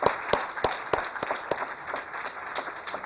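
A hall audience at an award ceremony breaks into steady applause, with dense continuous clapping and a few sharper individual claps standing out, sustained and fairly loud with no voices over it.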